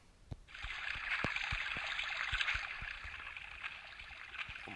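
Steady trickling, splashing water runs continuously in Survivalcraft, with faint periodic thumps and taps repeating underneath at a moderate, even level.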